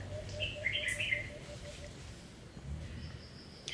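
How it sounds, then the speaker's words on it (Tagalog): Faint, high chirping bird calls in short bursts, somewhat distant, over a low steady outdoor rumble. "Parang ibon yata yung naririnig natin kanina."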